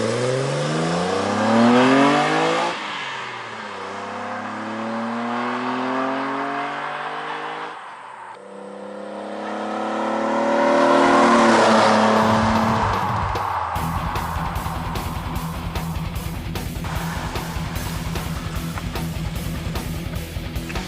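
A BMW Alpina tribute car drives by with its engine rising and falling through gear changes, swelling loud around mid-pass before settling into a steady, rough engine drone close by.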